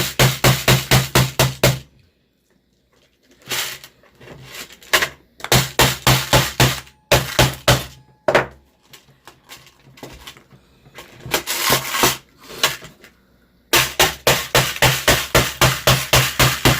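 A homemade spoon noise maker fastened with screws is struck hard and fast with a hammer, rapid loud bursts of sharp metallic-wooden blows separated by short silences, close and alone.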